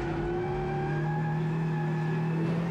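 A CUPRA TCR touring race car at almost full throttle on a WTCR circuit at Ningbo, heard onboard as a loud, close, steady engine drone that holds its pitch, with no talk over it.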